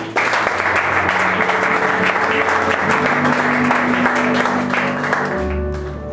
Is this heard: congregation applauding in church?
yes